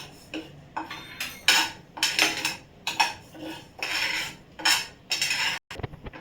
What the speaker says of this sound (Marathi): आता हे जे तांदूळ आहेत ना ते आपण मंद आचेवर भाजूया